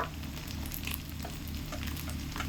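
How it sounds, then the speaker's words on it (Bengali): Ginger and cumin paste fries with green chillies in a pan, a continuous, close, moderate sizzle with light crackles throughout and no voices. "প্রথমে দিয়ে দেব আদা বাটা জিরে বাটা"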